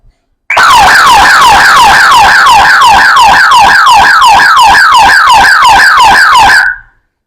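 An electronic siren alarm triggered by an infrared sensor in a physics department demonstration blares loud and close, a rapid repeating wail of about twenty quick rising-falling cycles over six seconds that then cuts off.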